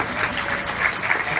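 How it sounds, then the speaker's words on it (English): A crowd at a Comic-Con 2018 voice-over panel breaks into brief applause. The clapping is dense and moderately loud for the whole short stretch. "give a round of applause"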